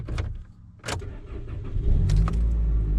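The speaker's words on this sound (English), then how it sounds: "Stop the car, turn it off, and see if it starts back up." A car engine starts again after being switched off following a 15-minute drive: a few brief clicks and rattles, then a short crank and a low, steady idle rumble settling in, fairly close and with no talking.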